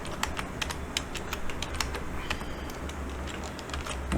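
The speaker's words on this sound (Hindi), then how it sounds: "मैंने टाइप कर दिया कैप्स ऑफ" Rapid clicks of a computer keyboard as someone types, a quick uneven patter of keystrokes close by, steady and alone without talk.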